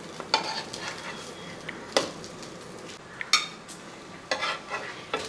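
An egg snack from Kerala fries in a pan with a low sizzle under repeated scrapes and clinks from a utensil as it is stirred and turned. The sounds are close and come in short bursts.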